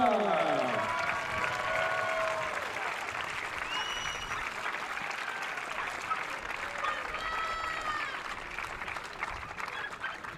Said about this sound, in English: Applaudissements pour l'Espagne.